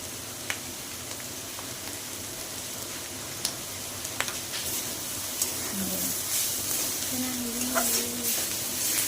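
Bitter gourd curry frying in a generous amount of oil with grated fresh coconut added, giving a steady soft sizzle and stir scrapes with occasional clinks, while someone talks nearby.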